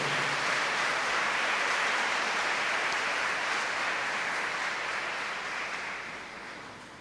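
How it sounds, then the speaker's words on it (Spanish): A church congregation applauds loudly and steadily, a dense, continuous wash of many hands clapping that holds for several seconds before gradually tapering off, with no talking. "Denle un fuerte aplauso a Él."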